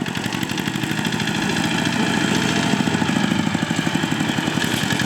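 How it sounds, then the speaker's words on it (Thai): A homemade mini tractor built from scrap metal runs close by, its small engine making a steady, rapid chugging putter, loud and continuous throughout. "รถไถจิ๋วรถไถเล็กประดิษฐ์เองครับ"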